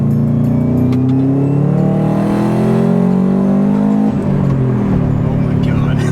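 A Subaru WRX wagon engine revs up loudly close by, the pitch climbing through the gears with a brief drop at a shift, then pulling again.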